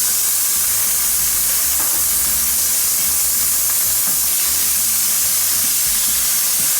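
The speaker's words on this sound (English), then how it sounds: "and you should hear a really great sizzle." Shrimp hit a hot pan of canola oil and sizzle loudly for Pad Thai, a dense, steady hiss and crackle of frying that continues throughout, close and without talk.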